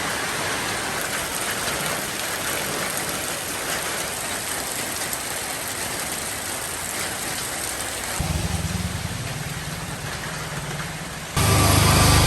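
Steady rain pours down during a bicycle ride, a loud continuous hiss of drops on surfaces with a low engine rumble joining near the end.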